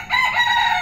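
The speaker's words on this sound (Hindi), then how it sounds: "ये देखिए ये किस तरह की आवाज़ें निकाल रहे हैं मुर्गियों की तरह" Buff Bantam chickens give a continuous, close, fairly loud hen-like call lasting under a second, a sustained crowing-like vocalization with no talk over it.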